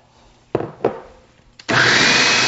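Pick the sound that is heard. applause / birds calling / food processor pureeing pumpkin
food processor pureeing pumpkin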